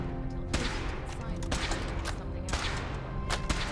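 A weapon in Fallout 4 fires as sharp, loud shots at a steady pace of about one per second, over a dense background of rattling gunfire and game noise.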